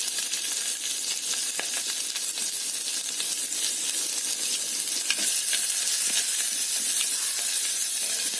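Green chilli and onion sautéing in a pan for sambhar: a loud, bright, unbroken sizzle and hiss close up, with scattered faint ticks and scrapes of stirring throughout.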